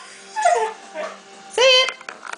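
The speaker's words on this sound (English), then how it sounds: "Look at that beautiful hairy dog." A beautiful hairy dog whimpers and lets out short, high yips, close and fairly loud, in a few separate bursts with brief pauses between them.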